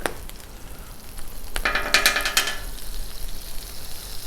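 Butter and oil hit a hot Blackstone griddle beside shrimp, flaring into a loud close crackling sizzle that swells and then settles into a steady hiss.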